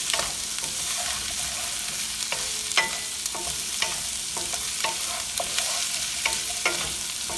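Potatoes sizzle steadily in a hot pan for aloo gobi, with a spoon or spatula scraping and stirring through them in repeated short strokes; close and continuous, no voices.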